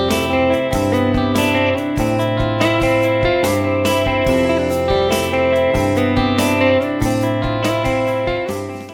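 Electric guitar plays a dreamy math rock chord progression in a steady, continuous flow of ringing chords with clean articulated notes, loud and up close with no talking.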